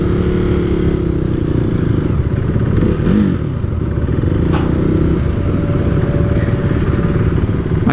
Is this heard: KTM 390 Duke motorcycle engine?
yes